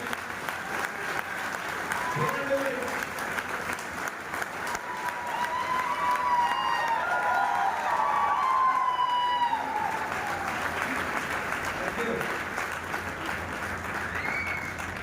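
An audience at a speech event claps in sustained applause for about fifteen seconds, swelling in the middle, heard from within the crowd.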